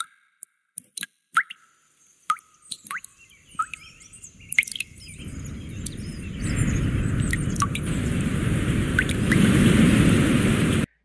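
Rain white noise from a Pomodoro timer app's ambient sound mixer: scattered close drips and plops at first, then a steady rain hiss that swells and holds to the end, with no talking.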